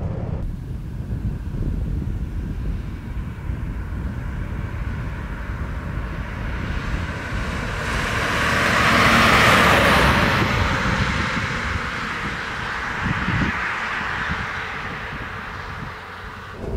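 A restored 1970 Mercedes 600 gliding smoothly along, its cabin filled with a steady low rumble of road and wind noise that swells gently near the middle and then eases, with no voices.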